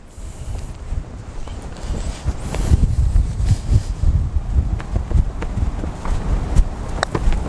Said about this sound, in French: le vent se lève de plus en plus